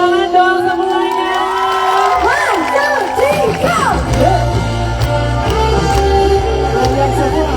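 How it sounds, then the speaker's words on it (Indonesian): A crowd at a Chinese New Year dance-group event cheers and claps in a loud, continuous wash of noise, with shouts and whoops rising over it and voices mixed in throughout. "Tepuk tangan dong semuanya."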